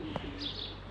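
Young pigeons at a loft, a brief soft coo with a faint chirp, close by and quiet against a low background hum.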